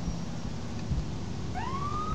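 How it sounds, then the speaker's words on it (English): A short burst of an electronic police siren in GTA IV rising in pitch over a steady low hum, sounding synthetic and compressed. "lights and sirens going through intersections"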